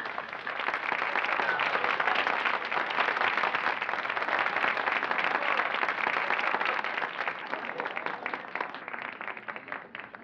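A theatre audience at a magician's show applauds the lieutenant with a long, steady round of clapping, dense and sustained for several seconds before tapering slightly.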